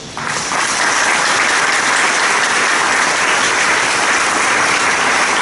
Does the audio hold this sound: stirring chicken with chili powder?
no